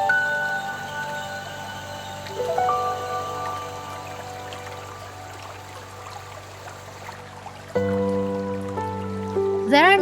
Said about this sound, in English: you can only hear the murmuring of water and birds singing